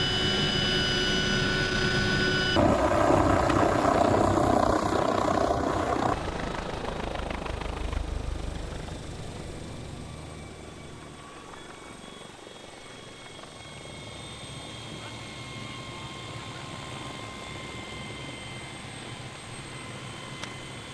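Helicopter rotor and engine roar from the craft used to drop a red-dot optic and pistol onto a gravel road from 100 feet, loud and steady at first, then fading as it flies off, with no talking.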